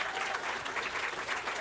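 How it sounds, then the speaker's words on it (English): Brief, steady burst of audience applause at a career and technical education school groundbreaking in Colorado, a continuous wash of many hands clapping at moderate level. "We should give them a round of applause"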